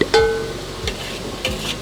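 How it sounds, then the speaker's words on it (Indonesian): Food frying in a pan at a home kitchen, with sharp metallic scrapes and stirring clanks of a utensil over a soft sizzle, close and fairly loud, no talking. "Wah, Ibu lagi goreng apa ini, Bu?"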